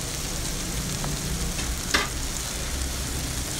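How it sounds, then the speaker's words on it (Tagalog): Bitter gourd (ampalaya) sautés with tomato in a hot pan, giving a continuous loud sizzle with occasional stirring scrapes, and no voice. "At isunod na rin po natin igisa ang ating ampalaya"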